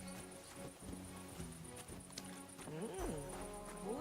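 Horse hooves clip-clop in the medieval world of Kingdom Come: Deliverance 2, an uneven run of soft thuds beneath characters talking, with brief vocal sounds rising and falling toward the end.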